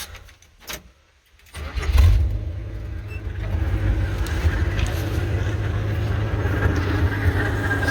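A Chevrolet C10 truck with a straight head pipe cranks and fires up, then settles into a loud, rough, rumbling idle close by.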